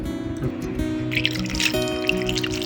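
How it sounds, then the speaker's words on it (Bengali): Water poured into scooped-out bael fruit pulp and seeds, a close splashing, dripping fill with small squishy liquid sounds throughout. "এবারে এতে জল দেবো"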